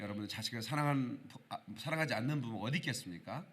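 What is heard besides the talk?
None of the usual background noises is heard.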